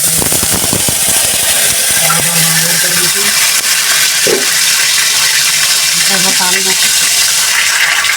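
Boiled potatoes and peas go into hot oil tempered with cloves and mustard seeds for matar ragda, giving a loud, steady sizzling hiss throughout while a voice talks over it.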